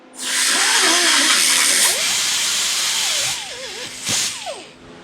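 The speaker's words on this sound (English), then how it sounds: "We'll go ahead and hit it real fast with the sander and put it back on and see if that changes anything." A power sander grinds a motorcycle spark plug in a steady, loud, hissing burst of about three seconds, then stops, followed by a brief sharper flare of grinding.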